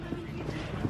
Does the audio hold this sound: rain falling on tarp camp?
no